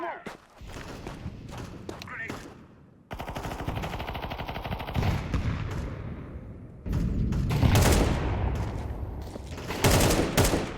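Rapid automatic gunfire in Counter-Strike 2, loud bursts of shots with gaps between them, while someone talks over the action.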